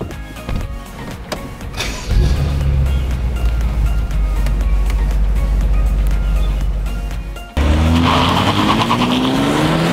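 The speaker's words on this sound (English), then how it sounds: "this coupe in particular is fitted with an aftermarket from the dealer Akrapovic exhaust. So when you mash your foot down, you get a lot of extra growl." A 2014 BMW M6 Gran Coupe with an aftermarket Akrapovic exhaust, heard close and loud from inside as the engine revs hard, drops off briefly, then surges again.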